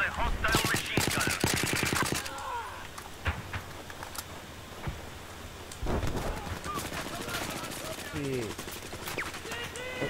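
Machine gun fire in Battlefield on the Conquest Large Operation Locker map: loud rapid bursts up close at first, then scattered shots and further bursts, with faint voices in the mix.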